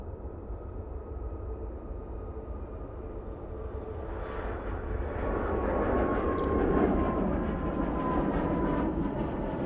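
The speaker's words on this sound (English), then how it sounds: "Malta Air now on the roll." A Malta Air jet airliner on its takeoff roll at Manchester Airport, a broad engine roar that builds steadily and swells louder toward the end, heard from a distance with no talk.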